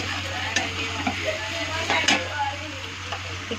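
Vegetables for veg pulao sizzle in a hot pan while being stirred, a steady close frying hiss punctuated by a few sharp scrapes and clinks of the spatula.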